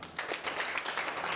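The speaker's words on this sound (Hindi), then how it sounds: "तालियां।" Audience members at a talk give a short round of applause, a soft, scattered patter of many hands that sounds distant and fairly faint, with no voices over it.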